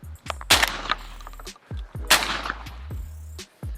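A Benelli Ethos Cordoba 12-gauge shotgun fires two loud, close blasts about a second and a half apart, each followed by a short rumbling echo and handling noise.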